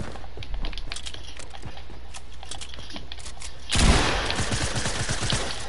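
Rapid cracking gunshots pop at an even clip in a shooter video game, then a louder burst with a heavy blast takes over and keeps rattling to the end.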